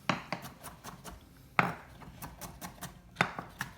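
Baby gherkins are chopped coarsely with a knife on a board for tartar sauce, giving a brisk run of close, sharp chops at an uneven rhythm, with a few heavier strikes standing out.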